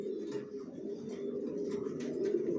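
Janssen-line racing pigeons in a loft give repeated low, throaty coos over a soft, steady background hum, close and moderately loud.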